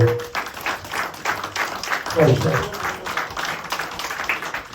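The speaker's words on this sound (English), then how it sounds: "Give him a big round of applause" Applause from a community audience after a tribute to a Carlton Town supporter, moderately loud and steady, with voices and cheering mixed through the clapping.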